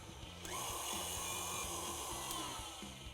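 An electric mixer whirs steadily, blending granulated and brown sugar for espresso pecan pie bars with a shortbread crust, a quiet continuous motor hum with a faint rhythmic mechanical pulsing and no talking.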